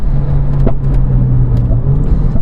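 Renault Clio RS Trophy driving fast on a road, a steady close engine drone and road roar with no talk.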